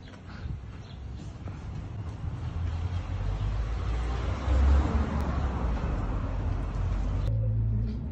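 A Chevrolet Opala engine runs at a steady low rumble, close by, with the sound swelling briefly midway through and no talking over it.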